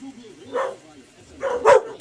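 A pet dog at home lets out two sharp barks about a second apart, moderately loud over a quiet background with a faint voice nearby.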